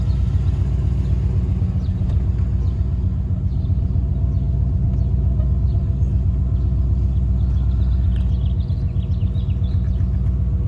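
A Ford Coyote V8 swapped into a 1993 Fox-body idles at about 900 RPM in a garage, a deep, loud burble going on without change, steady and close, with a faint higher chirping sound in the background.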